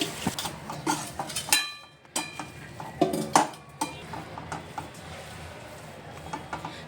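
Mashed boiled potato is worked into a spiced masala in a pan, with soft, uneven scraping and stirring strokes and occasional utensil knocks against the cookware.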